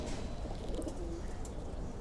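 Pigeons coo softly inside a loft housing breeding pairs and chicks, a faint, low, murmuring call rising briefly in the middle of a steady background hiss.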